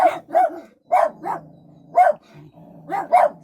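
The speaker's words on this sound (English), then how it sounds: "a dog going past on the towpath for the boat" A dog passing on the towpath beside a moored narrowboat barks close by, about eight sharp barks in uneven bursts with brief pauses between them.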